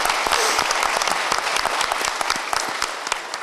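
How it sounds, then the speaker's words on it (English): An audience at a town hall claps steadily, a dense crowd-wide applause close to the listener that fades slightly toward the end. "please join me and give a round of applause to those helpers that we have tonight"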